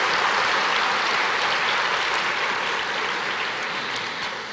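Church congregation applauding together at a Portuguese-language evangelical service, a dense, steady wash of many hands clapping throughout, tapering slightly toward the end with no talk over it.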